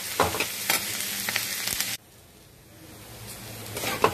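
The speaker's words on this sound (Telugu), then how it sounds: "పోపు అంతా బాగా వేగాలండి" Tempering spices with carrots and onions for a rice flour and moong dal upma sizzle loudly in a hot pan, with stirring scrapes. The frying noise drops abruptly about halfway, leaving a quieter, steady hiss that slowly builds again.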